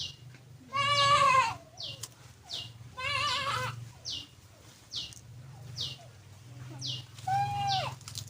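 Goats bleat from a pen beside a house deep in a forest, with three loud, wavering calls standing out near and clear while small birds chirp repeatedly in between.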